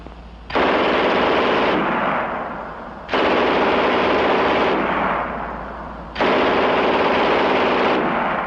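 A German MG 42 machine gun fires three long, continuous bursts, each a dense, rapid ripping roar that holds loud for over a second before tapering, with short gaps between them and no voices.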